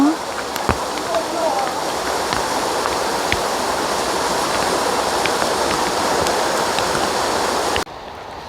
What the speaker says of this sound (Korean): 여기 용소 폭포인데요.